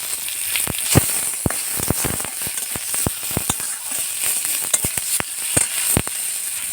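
Small tomato pieces sizzle with salt in a hot pan, a steady bright hiss peppered with frequent sharp pops and crackles throughout, close and fairly loud with no talking.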